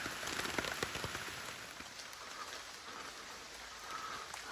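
Rain falling steadily during a storm on a hiking trail, a broad even hiss with scattered spatter of drops, strongest early and easing slightly, with no talk.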